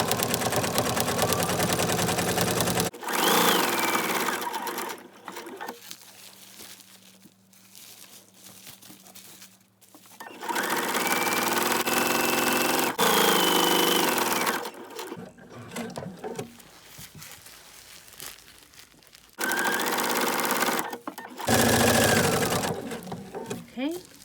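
A sewing machine stitches plush microfiber minky fabric in loud, close whirring runs that start and stop several times, with quieter pauses between bursts where a voice talks.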